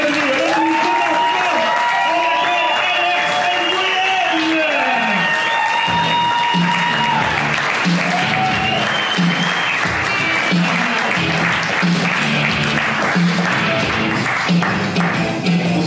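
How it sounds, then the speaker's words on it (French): Loud, sustained applause and cheering fill a stand-up comedy club as a French comedian is welcomed onstage. Dense clapping is mixed with crowd whoops and a low ongoing murmur that continues the whole time. "Je pense qu'on peut les avoir une applaudissement, ovation, quelque chose."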